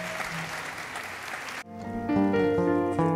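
Warm applause from a concert audience for a guest singer runs for about a second and a half, then cuts off as instrumental music starts.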